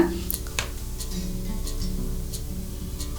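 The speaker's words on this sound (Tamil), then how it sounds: "தண்ணி நல்லா கொதிக்குது." Water bubbling at a steady boil in a pot, a continuous hissing, crackling churn with a few faint clinks near the start.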